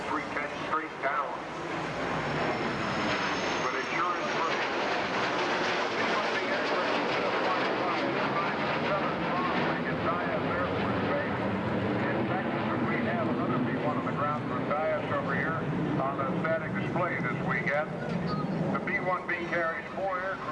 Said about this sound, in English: it's a high-speed pass at 520 miles an hour